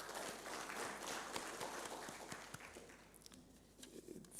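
Faint, distant audience applause at a conference: a dense patter of many hands clapping that thins out and fades toward the end.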